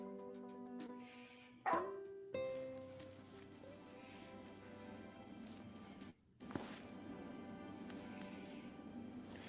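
A dog in the video game Final Fantasy XV gives a couple of short barks and yips early on, set against steady game music and ambient tones.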